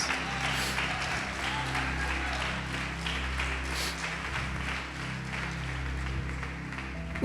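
Congregation applauding in a church service, a steady wash of clapping lasting several seconds under a low sustained hum, with no speech over it.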